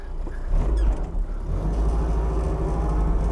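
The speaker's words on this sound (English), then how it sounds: "I'll wait for these cars to go by." Cars passing by on a road, a deep rumbling swell that rises, eases briefly, then builds again into a steady roar of traffic nearby, with no talking.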